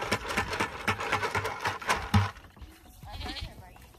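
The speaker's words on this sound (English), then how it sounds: "Oh, goats! Come back!" Goats on a farm bleating in short wavering calls, fairly close and mixed with bustle and other farmyard noise, fading somewhat toward the end.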